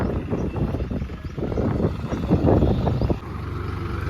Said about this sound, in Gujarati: તો મિત્રો આપણું ટ્રેક્ટર આવી રહ્યું છે.